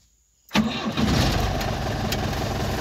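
A 1990 Chevrolet D20 pickup truck engine cranks and catches after a brief silence, then settles into a steady, close, rumbling idle.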